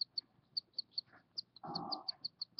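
A cockatiel father feeds his two-day-old chick, close by and faint. Thin, high begging peeps repeat in a steady rhythm, and a brief, louder rustling burst of feeding noise breaks in midway.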